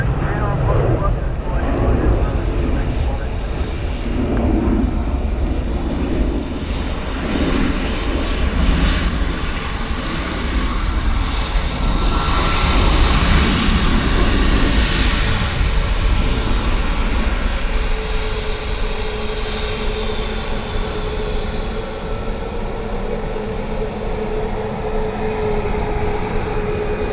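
Aircraft engines at Dublin Airport, with broadband jet roar holding steady throughout over a low rumble and a distant whine, while air traffic control radio talk runs beneath.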